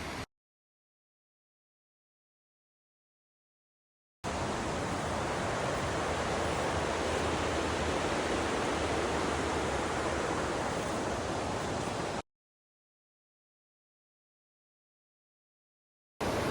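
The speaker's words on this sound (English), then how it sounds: "how big the river is right here in this area" Broadband rushing flow of a river beside a poorly marked, overgrown trail, a steady even roar heard alone and close, starting abruptly after silence and cutting off before the end.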